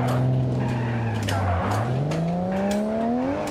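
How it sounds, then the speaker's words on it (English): A racing car engine in the game BeamNG.drive drones loudly, its pitch sinking, then climbing steadily again as it accelerates, with no other sounds around it. "Bro, that car is so loud."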